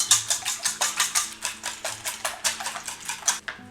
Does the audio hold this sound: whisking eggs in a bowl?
yes